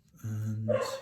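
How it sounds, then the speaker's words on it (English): A single short dog bark or yelp sounds close and fairly loud indoors, rising at the end, with a brief spoken word at the start. "excuse the dog"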